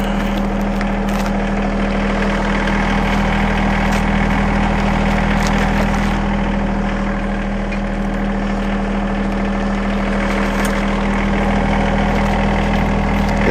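A tractor engine idles close by with a steady, droning hum and constant low vibration, unchanging throughout with no other sounds on top.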